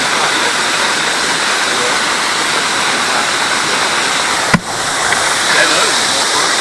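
Cascading waterfalls on the Green River roar as a loud, dense, continuous rush heard from a kayak trip, with one brief sharp knock partway through.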